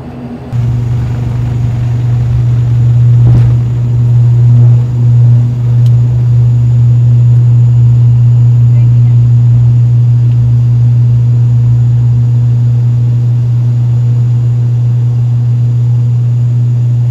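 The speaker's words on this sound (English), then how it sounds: "This is the ATR aircraft. We're ready for takeoff now." Inside the cabin of a Yeti Airlines ATR turboprop at Kathmandu as it prepares for takeoff, a strong, steady low engine drone fills the space with a constant hum.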